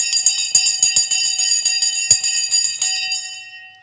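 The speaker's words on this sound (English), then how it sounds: "The bell has gone." A bell rings repeatedly with sustained, bright metallic tones and a quick series of strikes, loud and close, fading out toward the end.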